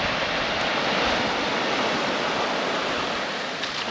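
Waves roll in on Plaka Beach on Naxos, Greece, a loud continuous wash of surf with no break, close by.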